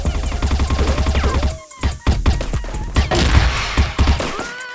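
Rapid bursts of gunfire from a video game shooter come in quick repeated volleys with brief pauses, loud and close, with no talk over them.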